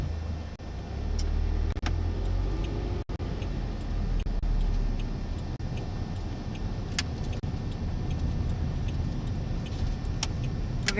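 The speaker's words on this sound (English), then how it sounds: "I'm putting my right signal on, put the car in reverse" A car's turn signal ticking in a regular rhythm inside the cabin over a low idling engine hum, with occasional small clicks and no speech.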